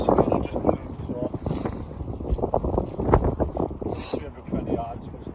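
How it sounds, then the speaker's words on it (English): Strong wind buffets the microphone with steady roaring gusts on a golf course at Bird Hills Golf Club in terrible weather, loud and close throughout. "I think every single hole has been into wind today."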